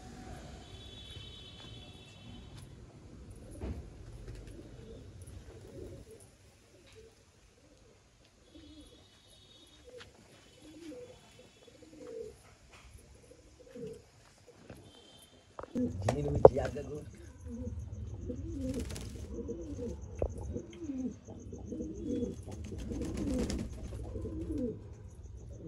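Pigeons kept in a house in Sarai Mohalla, a neighbourhood of pigeon fanciers, give soft, repeated coos with a few chirps, faint at first and then busier amid nearby voices talking.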